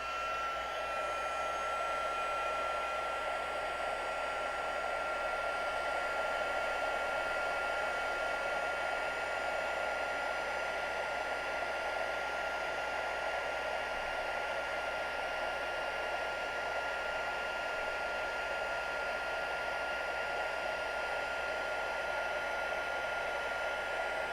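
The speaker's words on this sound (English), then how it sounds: "Bring in this heat gun. Turn her on." A heat gun blows over a card for heat embossing, giving a steady, close, whooshing blower hum that holds evenly for the whole stretch with no talk.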